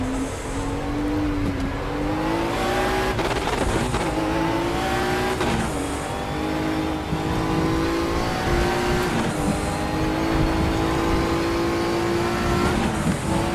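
A Group 5 Fabcar Porsche 935 race car in RaceRoom Racing Experience howls loudly and continuously on the Nordschleife, its engine note climbing through each gear before brief dips at the upshifts.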